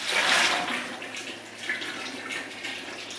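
Warm sugar water poured into a batch of homemade blueberry wine, a steady splashing gush loudest at the start and continuing as a softer stream, close up with no talk.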